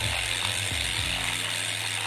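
A Coffeeza automatic milk frother starts up for a cappuccino with a steady mechanical whir and a few faint clicking, ratchet-like ticks, close and continuous.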